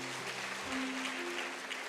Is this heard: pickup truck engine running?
no